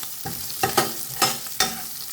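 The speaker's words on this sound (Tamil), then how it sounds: "வெங்காயத்தோட இந்த வெட்டின பச்சை பச்சைக்காவும் காஞ்ச மிளகாவும் இதை போடுறோம்." Chopped onion, green chilies and dried chilies frying in a pan, with a steady sizzle broken by several sharp stirring scrapes and clatters, close and moderately loud, no talk.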